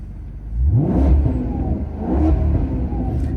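A 2013 Maserati GranTurismo MC Line with a 4.7 V8 revs in two loud, close bursts, each rising and then falling back to idle, with no talking.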